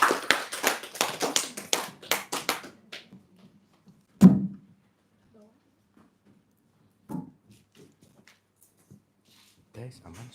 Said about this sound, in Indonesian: Kita boleh tepuk tangan semuanya.